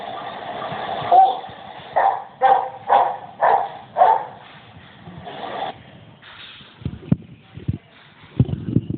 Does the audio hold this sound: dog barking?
yes